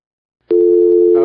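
A telephone dial tone sounds after a caller's line drops during a radio call-in show: silence, then a steady, loud, unbroken tone that holds to the end.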